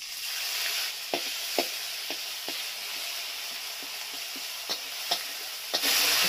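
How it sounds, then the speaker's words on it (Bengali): Chopped tomato and panch phoron frying in hot oil, a soft continuous sizzle broken by a series of light scraping stirs at irregular intervals, fairly quiet and close, no talking. "পাঁচফোড়নটা একটু ভেজে নেব। এর মধ্যে এবার দিয়ে দিচ্ছি টমেটো কুচি।"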